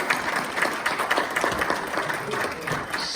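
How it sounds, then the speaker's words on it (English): A church Sunday service congregation applauds a licensed practitioner, brisk overlapping claps from a moderate crowd holding steady for about three seconds. "We could clap for Shelley, because she's awesome."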